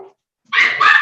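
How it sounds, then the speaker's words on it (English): Two dogs bark at each other during an online town council meeting, a short burst of close, loud barking after a brief quiet pause, with no talk over it. "My dog is now barking at Donna's dog."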